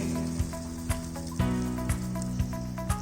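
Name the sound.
macaroni soup broth boiling and simmering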